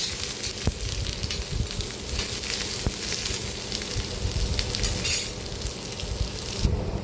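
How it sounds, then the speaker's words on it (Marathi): Chopped onion fries in hot oil with a steady crackling sizzle and occasional light stirring clinks, close and even throughout, with no talking. "तो तेलामध्ये चांगला परतून घ्यायचा, गुलाबी रंगावर येईपर्यंत व्यवस्थित परतून घ्यायचा"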